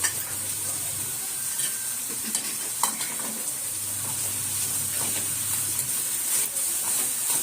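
Vermicelli upma stirred in a pan over a low flame: a steady soft sizzle and hiss with scattered light scrapes of the spoon, close up and with no voices.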